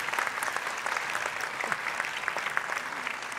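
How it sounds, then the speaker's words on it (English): A university convocation audience applauds an office employee, a brisk steady round of many hands clapping throughout, fairly close with scattered sharper claps. "if we could give her a little round of applause"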